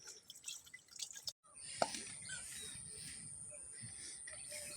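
Water drips while fish is washed in a home kitchen, with a few faint splashes and a sharp drip over a steady background hiss after a brief pause.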